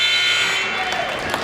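A basketball game buzzer in a university gym sounds as a sustained, loud electronic tone at the end of the third quarter, droning steadily through the whole moment beneath crowd and arena noise.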